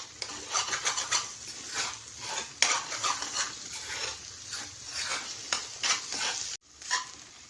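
Eggs frying in a pan for a Kerala tapioca egg masala, with soft sizzling and scraping of a spatula stirring against the pan, close and fairly quiet, broken by clinks of utensils.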